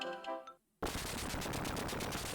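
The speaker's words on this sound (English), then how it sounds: "Stop flashbanging me!" Flashbang grenades go off in a video game: after a tonal game sound and a brief hush, a sudden loud burst gives way to a dense, crackling roar of rapid repeated pops that carries on steadily to the end.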